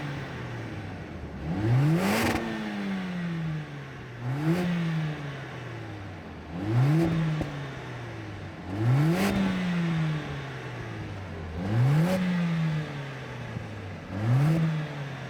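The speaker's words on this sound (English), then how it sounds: "Now let's give it some revs." A Mercedes-AMG A45 S engine is revved repeatedly while stationary, six sharp blips spaced a couple of seconds apart, each rising quickly and falling back to a low idle, heard close and clear with no talking.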